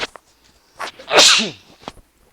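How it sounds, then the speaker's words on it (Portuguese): A single loud sneeze with a sharp intake of breath before it, close up, in an otherwise quiet setting. "Vou precisar espirrar."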